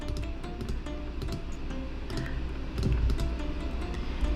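Rapid mouse or keyboard clicking while building a house in The Sims 4, a busy stream of small ticks over a low background hum.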